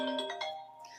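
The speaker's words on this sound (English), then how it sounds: "my cell phone is on." Cell phone ringtone chiming briefly, a bright melodic ring heard close and alone.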